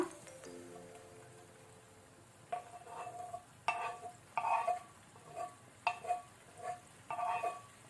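Sweet corn being stirred into masala in a pan: a quiet background sizzle, then a series of close scraping and clinking spoon strokes against the pan in irregular bursts.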